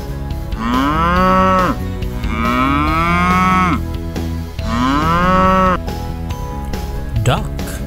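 A toy cow gives three long, loud recorded moos in a row, each a drawn-out lowing call with short pauses between them, close and clear.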